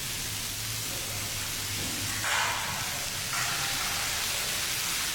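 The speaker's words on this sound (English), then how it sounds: "now we're going to saute this garlic and this onion" Garlic and onion sizzle steadily in hot olive oil in a pan, a dense even crackle that briefly swells as more is stirred in.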